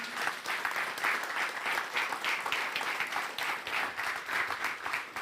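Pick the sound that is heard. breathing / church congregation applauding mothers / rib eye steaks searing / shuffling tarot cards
church congregation applauding mothers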